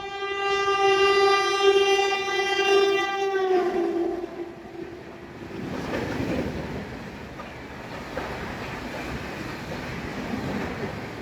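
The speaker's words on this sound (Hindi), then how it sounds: "ये कर्नाटका संपर्क क्रांति, भाई क्या स्पीड है यार" Karnataka Sampark Kranti express train rushing past at high speed, opening with a loud sustained multi-tone horn blast that drops in pitch as it passes, then a steady roar of wheels and carriages rumbling by close.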